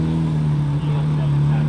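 A Corvette Z06 leaving a Houston cars-and-coffee meet, its loud, low engine drone rolling close by, with a voice talking briefly over it.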